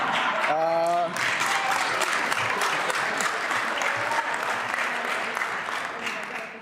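Sustained applause from a large crowd in the National Assembly of Québec, dense and steady clapping throughout, with a brief voice heard near the start, fading slightly at the end.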